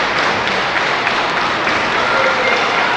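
Crowd at an independent wrestling event cheering and applauding, a dense, steady wash of clapping and noise filling the whole stretch, close and loud.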